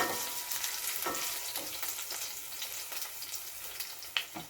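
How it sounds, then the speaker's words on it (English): Ginger, garlic, onion and thyme sizzling in hot oil for a Jamaican curry conch stew, a steady close crackle and hiss with small popping spits and a faint stir near the end, no talking. "So this is frying up nicely, guys."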